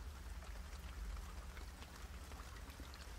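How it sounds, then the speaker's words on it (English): Steady rain falling in a sheltered outdoor area, a dense continuous patter and hiss of drops with a low rumble underneath, even and unbroken from start to finish with no voices. "you can hear the relaxing sound of falling rain."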